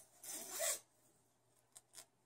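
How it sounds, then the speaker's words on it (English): A double zipper running around a bag is drawn open in one long, loud rasp, followed by two short, fainter zipping pulls. "so you can unzipper it the whole way"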